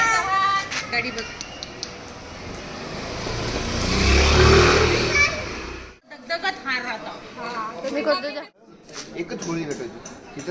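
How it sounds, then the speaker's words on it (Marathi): A road vehicle's engine swells louder and nearer, peaking mid-way, then fades as it passes, with voices talking over and after it outdoors during a Holi celebration. "गाडी बघ."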